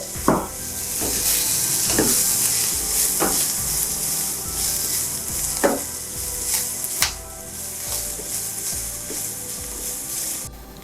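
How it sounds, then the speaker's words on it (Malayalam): Karwari-style fish fry ingredients roast in coconut oil over a low flame, giving a continuous close sizzle with occasional stirring scrapes and light pan clinks, no voices. "ഇനി നമുക്ക് അല്പം എണ്ണ ചേർത്തിട്ട് ഇത് റോസ്റ്റ് ചെയ്യാം"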